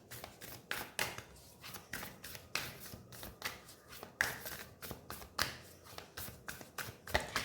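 Tarot cards are shuffled and handled up close in a steady run of soft riffling slaps and taps, quiet and rhythmic, with no talking.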